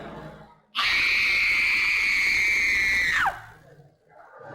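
A single long, piercing horror-movie scream-queen scream rings out loud and close, held steady for a few seconds before sliding down and cutting off, with no other voices over it.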